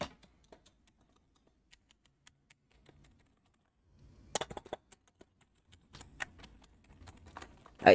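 Typing on a budget V700 RGB wired computer keyboard: sparse, faint single key clicks at first, then a denser burst of louder, clattering keystrokes in the second half, close up and with no talking.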